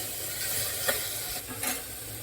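Spices sautéing in a pan for a Maharashtrian prawn and rice dish, heard as a soft steady sizzle with a couple of brief scraping stirs, no voices.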